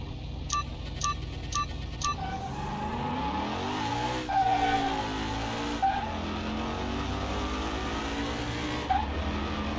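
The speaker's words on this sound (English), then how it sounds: "So this is the V12 Lamborghini." V12 Lamborghini racing in Car Mechanic Simulator 21, its engine roaring and rising in pitch through gear changes with tire squeals, after a few short electronic beeps at the start; loud and continuous, with no talk.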